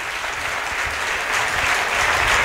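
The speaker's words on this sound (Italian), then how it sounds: "E un grosso applauso." Loud, dense applause from a theatre audience at an arts evening performance, a continuous wash of clapping that swells slightly toward the end, with no voices over it.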